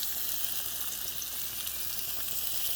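A pork chop fries in a pan with a steady, close sizzle that holds evenly throughout, with no talking.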